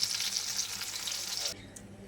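Eggplant slices fry in hot oil with a steady, fairly loud sizzle that cuts off abruptly near the end, leaving a quieter background.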